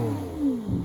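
Lamborghini engine, warmed up, revving in a short burst, with a rising and falling tone over a steady low rumble, close and loud.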